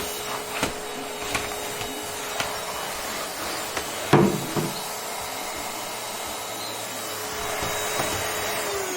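A household vacuum cleaner runs steadily while sweeping up toys, with a few knocks and clatters of small objects being sucked up, the loudest near the middle.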